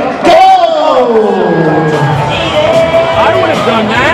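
Ballpark crowd at a minor-league baseball game cheering and whooping during an on-field eating contest, loud and continuous, with a wavering drawn-out yell rising above the roar.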